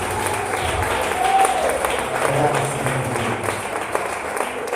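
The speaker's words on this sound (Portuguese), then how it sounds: "As palmas são do Senhor Jesus." A church congregation claps together during a service, producing a dense, steady roar of applause that carries evenly from start to finish.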